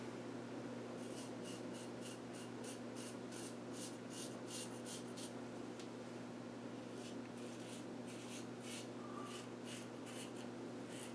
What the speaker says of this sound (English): We're going to do this touch-up real quick, and then this shave will be done